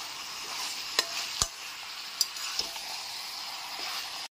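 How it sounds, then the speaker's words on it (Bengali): Meat frying in a pan with onion, ginger and garlic over medium heat, a steady soft sizzle with a few sharp clicks and scrapes from stirring, fairly quiet and alone. "মাংসটাকে পেঁয়াজ আদা রসুনের সাথে খুব ভালো করে ভেজে নেব।"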